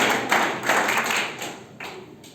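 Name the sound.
audience clapping for a student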